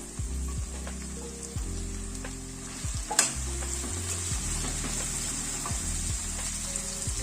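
Vegetables with tomato frying in a pan give a continuous sizzle with occasional stirring clatters and one sharp knock partway through, close and steady, with no voices.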